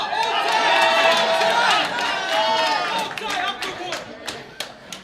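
A crowd at a robot combat tournament's quarter finals cheers and shouts loudly, then the noise fades into scattered claps and calls as a voice speaks.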